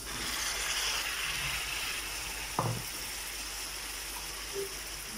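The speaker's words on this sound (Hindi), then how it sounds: "अब हम चिकन और प्याज दोनों को फ्राई करेंगे" Chicken and onions fry in a pan for chicken karahi, giving a steady, close hiss of sizzling oil that holds level throughout. A single clunk of a utensil sounds partway through, and no one speaks.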